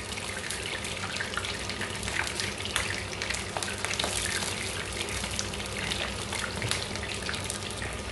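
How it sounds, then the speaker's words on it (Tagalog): Sea bream (orata) fries in hot oil under a splatter screen, giving a steady, dense crackle and sizzle throughout with no talking. "Nagpiprito ko guys, palagi may screen para hindi siya masyadong sumansip."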